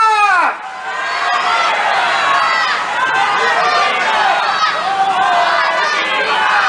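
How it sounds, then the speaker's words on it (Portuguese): A large crowd at an anti-corruption street protest in Brazil shouts and chants together, a loud sustained roar of many voices with rising and falling yells. "vamos fazer barulho gritando"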